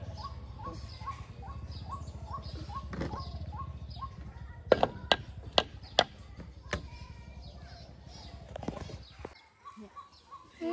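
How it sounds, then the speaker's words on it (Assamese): Small birds chirp in a repeating series of short calls above a low hum, interrupted by a few sharp knocks. "চৰাই কান্দি আছে, মাত শুনিছেনে আপোনালোকে?"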